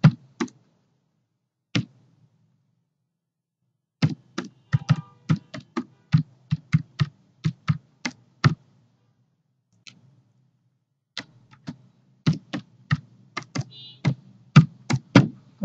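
Keys on a computer keyboard clack while an email address is typed, sharp close taps in quick irregular bursts separated by pauses, with a few isolated keystrokes between runs.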